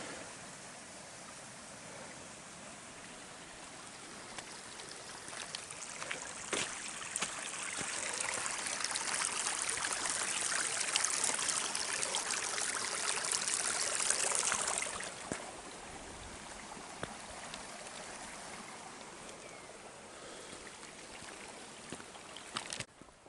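A winter mountain stream in the Los Cahorros gorge, running higher than usual, rushes and gurgles steadily nearby, swelling louder through the middle of the stretch before easing back; no one speaks.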